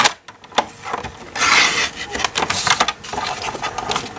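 Paper is trimmed for a scrapbook album page, making close scraping and rubbing strokes in short uneven bursts, one stretch lasting longer than the rest.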